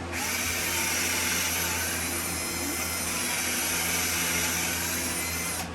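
A power drill whines steadily and loudly while backing a screw out of trim inside a bus conversion, its motor holding one continuous pitch with no pauses for nearly six seconds.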